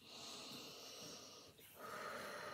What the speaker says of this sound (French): petite méditation, quelques petites respirations, 2-3 respirations